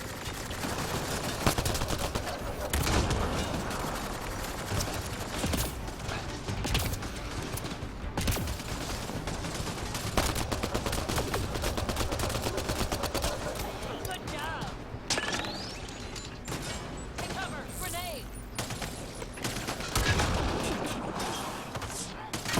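Turret gunfire from the sci-fi game Mass Effect Andromeda, rapid bursts and volleys crackling continuously throughout amid game sounds, with voices talking over it.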